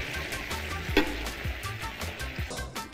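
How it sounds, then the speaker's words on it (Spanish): Pastor volcanes sizzle in hot oil in a pan, a close, steady crackling fry with occasional pops and stirring clatter, no voices. "vamos a seguir friendo este"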